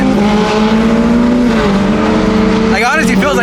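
Ferrari sports car driven fast, a loud close engine roar holding a steady pitch then dropping and rising with sharp downshift blips near the end, with a person talking over it.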